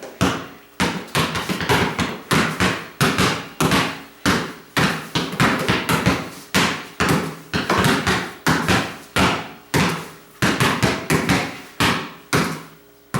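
A basketball bounces in a steady, rapid rhythm, each dribble a sharp thud repeating close by for the whole stretch.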